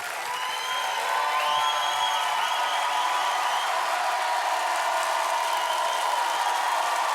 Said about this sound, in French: Applaudissements pour Black M.